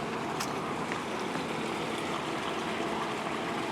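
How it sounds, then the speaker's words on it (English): A small stream flowing in the Sepulveda Wildlife Area, a constant close rush and babble of water at a steady level, with no one talking. "We got a little stream right over here."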